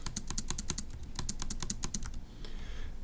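Rapid keystrokes on a computer keyboard, a dense run of sharp, close clicks for about two seconds before the typing stops and only faint room hiss remains.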